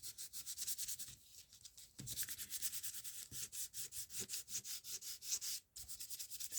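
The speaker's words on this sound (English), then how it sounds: "Just a bit of fine sandpaper. This is already quite worn. And just rubbing it all across the surface." Fine, well-worn sandpaper is rubbed back and forth across a wooden board in quick rhythmic strokes, giving a close, dry, raspy scratching that pauses briefly between passes.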